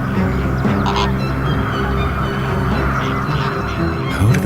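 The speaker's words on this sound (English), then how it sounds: "clamoring horde of young flamingos" A clamoring horde of young flamingos calls in a dense, continuous din of overlapping cries, steady and loud throughout with no single voice standing out.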